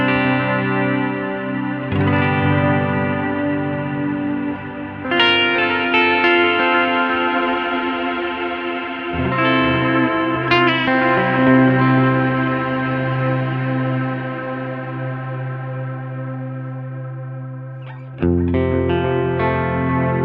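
Sustained guitar chords from an Avocado guitar through a Helix particle reverb effect, washed in shimmering, echoing reverb, each strum blooming into a long, swirling tail.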